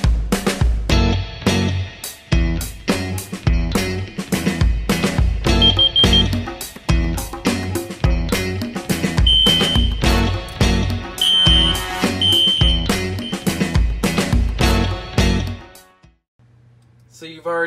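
Several fire alarm devices sound together indoors, loud and close, with repeated rhythmic horn-like pulses and high electronic tones going for about sixteen seconds before cutting off abruptly.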